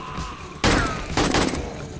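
Explosions in 7 Days to Die during a Blood Moon night, a sudden loud blast followed by a second burst of crackling debris and rumble, close and dense.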